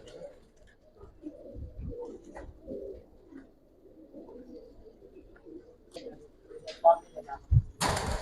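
Pigeons coo softly in low, rolling murmurs at a busy pigeon market, with people talking nearby and a few sharp clatters near the end.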